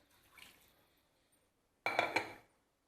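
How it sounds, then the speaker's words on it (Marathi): Hot water is poured into a mixer grinder jar to rinse off leftover spice masala: a faint early trickle, then a short, louder splashing gush near the end with no one talking. "हा मिक्सर धुवून घालते मी पाणी गरम"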